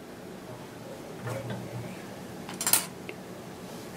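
A knife slicing through a Reese's peanut butter cup on a plate, soft scraping followed by a brief sharp clink of blade against plate near the end, quiet and close.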